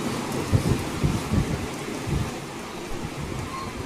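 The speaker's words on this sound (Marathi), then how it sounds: "पुण्यात जोरदार पावसानं हजेरी लावली।" Heavy pre-monsoon rain falls on a Pune suburb, a dense steady hiss of downpour with low rumbling gusts and a faint distant rumble, fairly loud and continuous with no talk.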